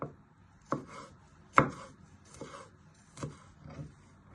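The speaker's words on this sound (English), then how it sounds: "Then you turn it back round and just finally slice it. Nice and fine." Knife finely slicing garlic on a chopping board, about five separate crisp chops at an uneven pace, close and fairly quiet with stillness between strokes.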